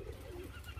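Caged white-rumped shamas offered for sale give soft, low cooing calls that run steadily through the whole moment, close and fairly quiet, with no voices over them.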